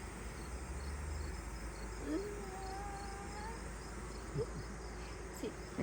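Honey bee workers buzz on a hive frame, a soft continuous hum close by with a few faint, brief sounds over it.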